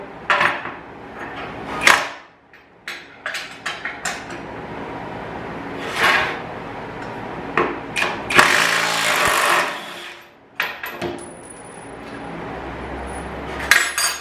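A WAKYME 21V 1/2-inch cordless impact wrench set on high loosens a bolt held through a washer. It gives a loud rattling hammer burst lasting about two seconds, surrounded by scattered metallic clinks and handling knocks.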